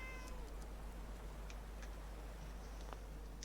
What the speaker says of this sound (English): I just heard a cat. And I'm fairly certain it was in game.